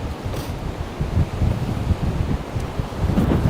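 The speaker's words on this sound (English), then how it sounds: "the wind is really kicking right now, that's for sure" Strong gusty wind from a Hurricane Helene feeder band roars steadily and loudly across an outdoor microphone, with turbulent buffeting throughout and no voice.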